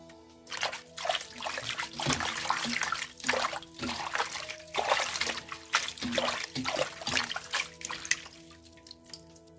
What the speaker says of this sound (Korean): 꽃말이 다듬은 꽃말이 깨끗이 씻어집니다.